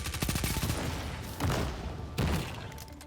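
SMG fire from Destiny, testing a damage perk against targets: quick bursts of rapid shots, a rattling volley at the start and then two sharper bursts, loud and close with no talk.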